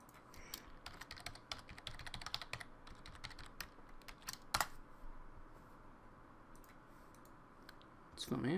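Quick keystrokes clatter on a computer keyboard while a WordPress login is entered, a fast run of clicks followed by scattered single taps, moderately close and fairly quiet.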